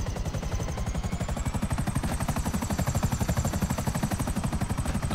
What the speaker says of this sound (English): Fuck it, we're taking a helicopter.